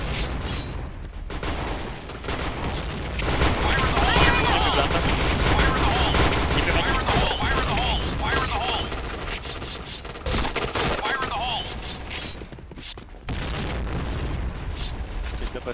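Grenade blasts and rapid gunfire crash through a video game firefight, dense and continuous with bursts of shooting layered over a constant roar, while a player talks over the action.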